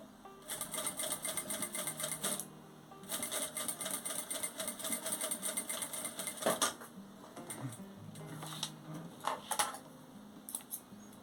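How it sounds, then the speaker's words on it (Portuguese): A sewing machine stitching a zipper onto a fabric wallet, running in short bursts of rapid mechanical chatter with pauses and small clicks and clatters between, fairly quiet and close. "eu continuo costurando o meu zíper até aqui"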